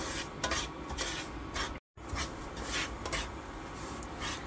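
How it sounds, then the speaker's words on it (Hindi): Semolina being stirred in a pan with ghee for suji halwa makes a steady, close, soft scraping and rubbing of the spoon against the pan, with one brief dropout and no talking. "सूजी डालना शुरू करती हूँ और मैं अब इसको मिक्स करना शुरू करती हूँ"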